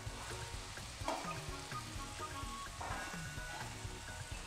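Beans, carrot and cauliflower for veg kurma sizzle in a pan with softened tomato, a quiet, steady frying crackle with occasional stirring clinks.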